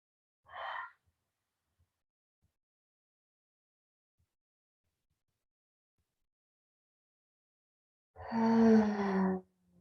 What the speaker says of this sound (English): Let's take 3 exhales out through the mouth.